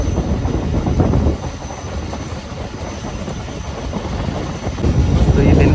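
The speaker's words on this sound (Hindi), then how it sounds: "जुम्मा कोट के बाद बिन कासिम रेलवे स्टेशन पहुंच गई हमारी ट्रेन।" Train rumble at Bin Qasim railway station as the train pulls in, a steady loud rolling roar with faint rhythmic clatter, swelling at the start and again near the end, no voices.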